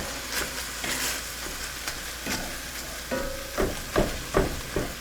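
Ground beef and garlic sizzle in a hot pan while a small tool breaks up the meat, a steady frying hiss broken by several sharp scraping pushes near the end. No one speaks.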